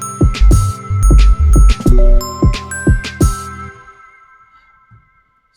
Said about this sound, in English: What about a tinkle toy? Drop that in.